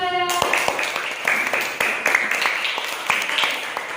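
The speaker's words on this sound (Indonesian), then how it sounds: "tepuk tangan untuk kelompok 2" A classroom of students claps for a student group, a burst of sharp, uneven hand claps that starts after a brief tone and keeps going at close range with some light voices.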